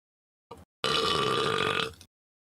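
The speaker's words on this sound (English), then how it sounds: "I'm burping. I'm gassy." A person lets out a short grunt and then a long, loud, rasping burp lasting over a second, close and clear with no other sound around it.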